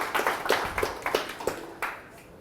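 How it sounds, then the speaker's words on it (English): A few scattered claps from a small audience at a close-up magic talk as a volunteer comes up, about half a dozen separate claps in an uneven rhythm, fairly faint. "One more round of applause."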